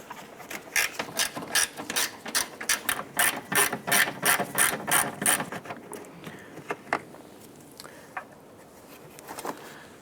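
A hand ratchet loosening the 10mm bolts on the coolant tank of a 1993-1997 Ford Ranger, rapid close clicking bursts for about five seconds, then a few slower scattered clicks with no voices.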